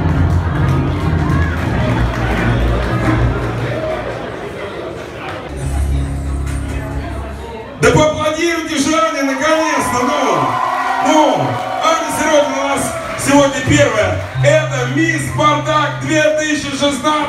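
Audience at the Miss Spartak pageant cheering and applauding, a loud crowd roar with whoops and shouts that swells after a brief dip, mixed with voices and a presenter talking over it.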